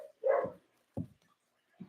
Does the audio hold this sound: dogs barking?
yes